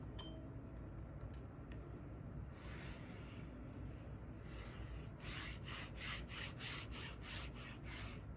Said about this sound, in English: now I'm going to use my bone folder and just sharpen these edges